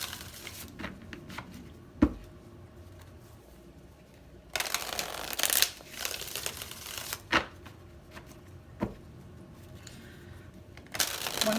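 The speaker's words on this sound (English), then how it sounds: "One more shuffle." Tarot cards are shuffled by hand in several bursts of quick riffling and soft slapping, separated by quieter pauses and a few sharp taps, close up and with no speech.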